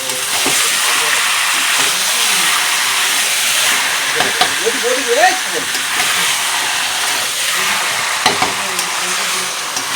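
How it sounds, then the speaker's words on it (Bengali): Meat sizzling and frying with spices in a pan for a papaya and meat curry, a steady hiss with occasional stirring scrapes and faint voice sounds in the background. "তো এখন আমি মাংসটা দিয়ে দেব, দিয়ে এখন সুন্দর করে কষাতে থাকবো।"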